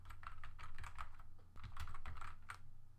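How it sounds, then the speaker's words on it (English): Keys clatter in quick, uneven bursts as text is typed in all caps on a computer keyboard, caps lock engaged; the clicks are close and fairly quiet with short pauses between words, and no one speaks. "I'm going to type Photoshop Elements."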